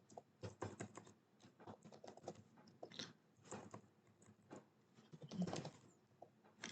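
Keys clatter in irregular bursts of quick, close taps on a computer keyboard while code is entered into a Databricks SQL notebook, with short pauses between runs of strokes.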